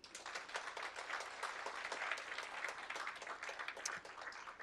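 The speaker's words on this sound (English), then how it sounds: "So please join me and give it all up for all the great people who are here today with some applause" Applause from an audience at a civic engagement expo: steady, crowded clapping from many hands that holds at an even level throughout, heard from some distance and fairly quiet.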